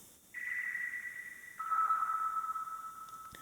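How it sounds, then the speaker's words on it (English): Two steady synth pings like submarine sonar, the first higher and the second dropping lower, each sustained and ringing, heard alone with no talking. "Doesn't it sound a bit like, you know, those sonars in submarines?"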